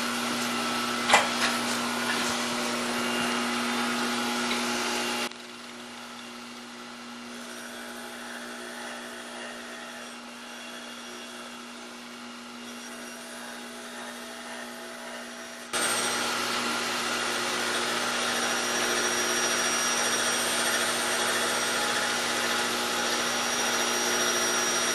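A lathe hard-turns steel bushings with a steady mechanical drone that drops to a quieter hum midway, then comes back at full level for the rest of the stretch.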